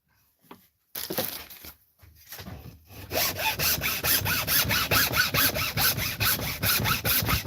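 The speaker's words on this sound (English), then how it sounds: "See if I can just cut through this tube right below" A hacksaw cuts through a tube on a rifle build, starting with a few hesitant scrapes and pauses, then settling into steady, close, rhythmic back-and-forth rasping strokes.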